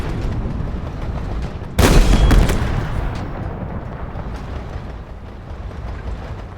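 One loud burst of gunfire from Halo Infinite, a sharp heavy blast with a short rattling tail that fades into a low rumbling game ambience, no talk.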